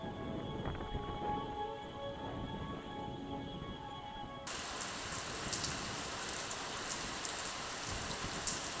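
Heavy rain pounding against a study window, a dense, steady hiss that swells suddenly louder partway through after a quieter stretch with faint tonal sounds.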